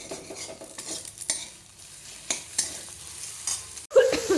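Mixed vegetables and onion stir-fry in a pan for chow mein, making a soft continuous sizzle broken by scraping stirs and a louder clatter of a utensil against the pan at the end.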